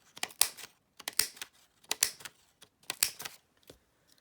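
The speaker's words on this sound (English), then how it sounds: "punch them out of the paper." A paper punch cuts small circles out of book pages in a run of short crunching snaps and clicks, each followed by a brief rustle, close and otherwise quiet.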